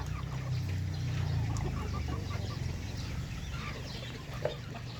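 Chickens cluck in a yard shared with ducks and rabbits, a dense, close, continuous chatter of fowl with a low rumble underneath and one sharper call near the end.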